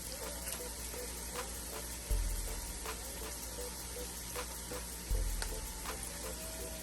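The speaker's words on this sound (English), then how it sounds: "Let's stir that baby around in there with those onions and that bacon." Butter sizzling and frying in a pan with onions and bacon, a steady crackling hiss with occasional pops and a couple of heavier clunks as the food is stirred.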